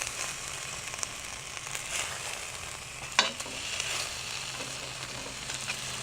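Barbecue-sauced ribs sizzle and crackle steadily in a Dutch oven, a continuous frying hiss with occasional scraping as the meat is turned.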